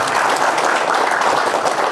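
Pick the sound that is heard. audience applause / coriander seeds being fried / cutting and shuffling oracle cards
audience applause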